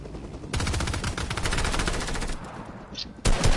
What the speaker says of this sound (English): There's people shooting.